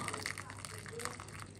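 Hot water poured into a pan for boiling a rag pudding gives a soft, close splashing and gurgling trickle, fairly quiet and continuous over a short stretch in a home kitchen.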